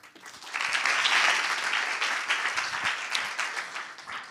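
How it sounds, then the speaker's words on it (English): Audience applause at an EA Global London lightning talk, swelling quickly from quiet into brisk clapping by many hands, peaking early and then tapering unevenly, with no talk over it. "Round of applause for Jonathan."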